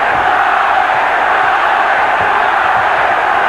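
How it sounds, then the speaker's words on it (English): Dense, continuous roar of a large boxing crowd chanting in support of Jesus Chavez during his fight with Floyd Mayweather, a steady, loud wall of voices with no breaks. "Pro Chavez crowd chanting already."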